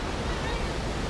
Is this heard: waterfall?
yes